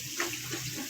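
Water poured from a cup into a cooking pot for apple semolina halwa, a steady close trickle and splash lasting about a second with no talk over it.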